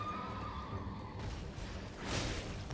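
A horse in Elden Ring whinnies, its neigh rising and falling over a constant game rumble, with a louder burst near the end.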